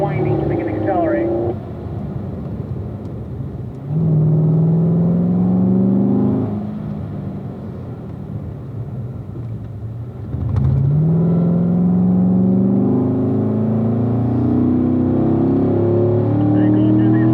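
A Corvette accelerates around a race track at a driving school, its engine droning loudly and rising in pitch through several surges, close and continuous from inside the car.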